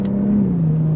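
A Cadillac CT4-V Blackwing sedan engine pulls hard under throttle, a loud, close, steady droning growl whose pitch sags slightly midway as it holds a gear.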